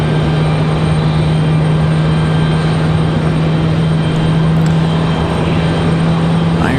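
An aircraft starts up at Raleigh-Durham International Airport, a steady loud mechanical drone with a strong constant hum and broadband roar throughout, unchanging over the clip.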